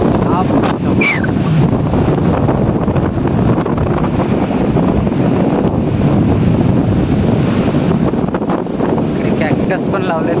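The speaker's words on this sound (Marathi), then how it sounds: "हवा अशी एवढी हवा चालते ना, हवाचा आवाज तर इथं जातो" Strong seashore wind roars and buffets the microphone in a loud, unbroken rush, with surf faintly underneath and a voice partly buried in the gusts.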